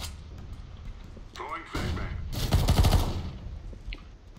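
Video game gunfire from a PP-Bizon submachine gun in CS:GO, a short burst of rapid shots mixed with a quick crack and thuds, with a person talking over part of it.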